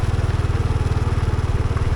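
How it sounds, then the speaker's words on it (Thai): A walking tractor's engine chugs steadily and close by on a village road in Khammouane province, Laos, giving a rapid, even, low-pitched putt-putt thump. "รถไถนารถตอกตอก กำลังกลับบ้านกลับซ่องพี่น้องเลย"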